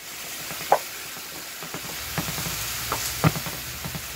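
Ground turkey and bell peppers fry in a pan for a stir-fry with a steady, loud sizzle, and a spatula scrapes and taps against the pan every so often.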